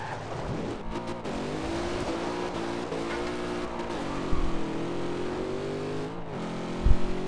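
A '70 Camaro Z28 in Forza Horizon 2 drives steadily with a continuous engine drone that rises and falls through gear changes, then revs harder on a launch with brief bursts of tire noise, loud and close throughout.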